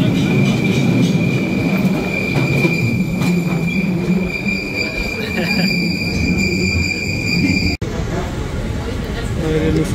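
A London Underground Bakerloo line train rumbles loudly and steadily with a high whine and squealing wheels, carriage noise filling the space, with a brief sharp break near the end.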